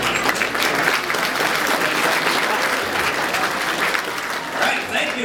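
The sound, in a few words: audience applause at political speech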